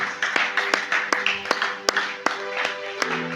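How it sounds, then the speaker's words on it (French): A church congregation claps for Jesus, steady rhythmic hand claps with a crowd murmur underneath, fairly loud and sustained, with a voice speaking over it. "Acclame un peu pour Jésus."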